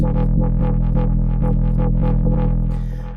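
Buzzy synthesizer in Patchworld with a pulsing wobble and quick, changing arpeggiated notes over a droning bass, loud and continuous, fading slightly at the end.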